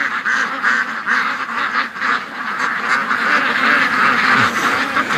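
A flock of ducks quacks continuously and loudly nearby, many overlapping calls forming a dense, busy chorus with no pause.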